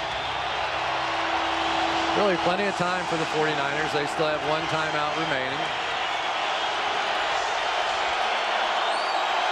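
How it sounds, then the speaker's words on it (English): Seahawks home fans in a football stadium keep up a loud, steady roar throughout, with a commentator talking over the crowd noise. "Now the 12th man comes into play again as this crowd gets jacked up."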